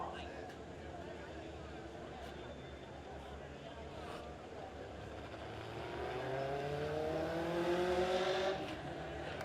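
Race car engines droning at Springfield Raceway during a Legend car A-Main, a steady wash of several motors with one engine note rising and swelling louder near the end as a car draws closer.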